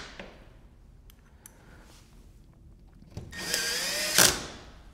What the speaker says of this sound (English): use these painted hex head screws to screw through the mullion.